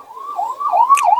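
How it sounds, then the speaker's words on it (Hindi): A wailing ambulance siren sounds near a major fire in Vikas Nagar, Lucknow, its pitch sweeping up and down in a loud, close, brief burst with no talk. "लगातार एम्बुलेंसेस आ रही हैं यहाँ पर।"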